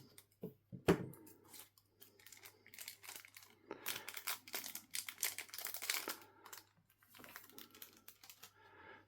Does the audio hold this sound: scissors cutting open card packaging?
yes